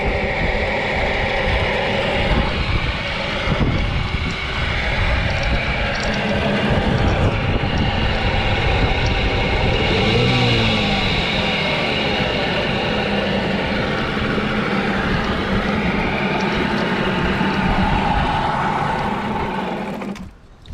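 A Nissan Tohatsu 9.8 two-stroke outboard dinghy motor, freshly rebuilt, runs loud and close with a steady buzzing drone that holds level for about twenty seconds before cutting out abruptly.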